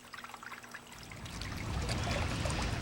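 Water trickles steadily from a pump in a self-contained water garden set in a big bowl, a soft, continuous splash that swells slightly and stays close.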